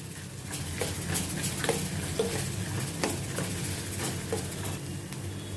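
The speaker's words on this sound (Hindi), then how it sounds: "इसको भी अभी मैं सौते करती हूँ, प्याज के साथ भूनती हूँ थोड़ा" Onions frying with ginger garlic paste in a pan, a continuous close sizzle broken by regular scraping strokes of a spoon stirring the mixture.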